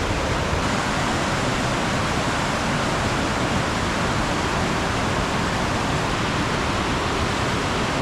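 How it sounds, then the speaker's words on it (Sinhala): The Na Ella waterfall cascades down one side of a hill in a constant, dense roar of rushing water, loud and unbroken from start to finish, with no voices. "නායල්ල පැත්තකින් කඩා හැලෙනවා."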